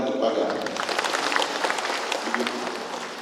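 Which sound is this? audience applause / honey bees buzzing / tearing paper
audience applause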